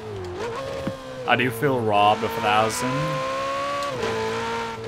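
The Ferrari 488 Pista engine in Forza Horizon 4 revs up in loud rising sweeps, shifting at high RPM with pitch jumps, while someone talks over it.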